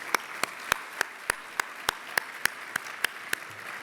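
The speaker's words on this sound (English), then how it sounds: "How about a round of applause for that group?" Sparse, evenly spaced claps, about a dozen sharp hand claps in a steady rhythm, from a small audience at a business hall of fame ceremony, fairly quiet in a still room.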